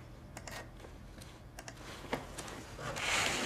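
Someone types a new password on a computer keyboard, producing a quiet, irregular series of light key clicks over a low hum, with a louder swell of noise near the end.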